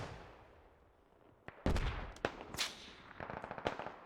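Incoming gunfire aimed at the player in the military shooter game Squad: a sharp crack, then a loud close burst and a run of rapid shots and impacts over faint background noise.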